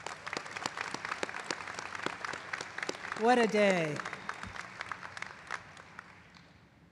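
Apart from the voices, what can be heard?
audience applause for graduating class at commencement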